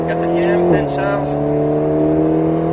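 Race car on the Haut Saintonge circuit accelerating out of a corner, a loud steady engine drone that drops in pitch at an upshift to fourth and then holds under full load, with someone talking over it.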